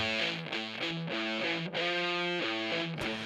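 A heavily distorted, fuzzy electric guitar plays a short run of sustained chords, thick and saturated, with no voices.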